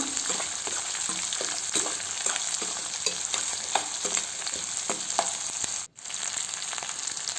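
Chopped green chillies sizzle and fry in a pan for tomato pulihora, with a steady crackle, occasional stirring clicks and brief scraping sounds, close and fairly quiet, with no speech.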